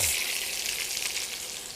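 Onion, carrots and pepper frying in a pan, a brief close hiss of steady sizzling.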